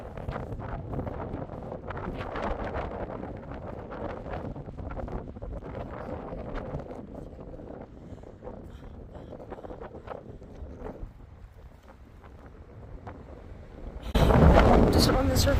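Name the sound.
wind blowing on an exposed rocky crystal-hunting site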